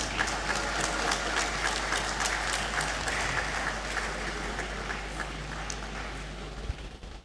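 Sustained applause from an audience in a large hall during a university graduation ceremony, dense and steady clapping filling the whole stretch with no talk over it.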